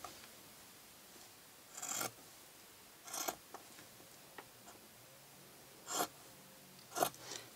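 Scissors cutting a non-fraying craft fabric while making a gift box display stand: a few short separate snips near the microphone, spaced a second or so apart, against a quiet room.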